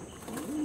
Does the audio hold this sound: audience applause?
no